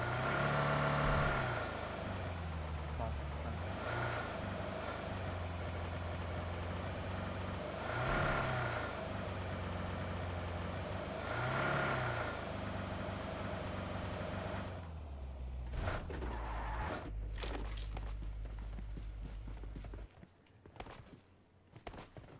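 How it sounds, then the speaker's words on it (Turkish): A vehicle in the battle royale game PUBG Mobile rumbles along steadily with periodic swells in engine noise as it draws near, then cuts off into scattered clicks and brief footsteps near the end. "Araba geldi abi."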